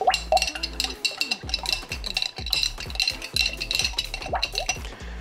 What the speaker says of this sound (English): I'm gonna give this mixture just one more little mix